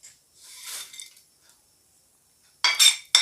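A spoon stirring leftover rice mixed with roasted peanuts in a steel vessel, a few scraping clinks, then a gap, then louder close metallic scrapes near the end.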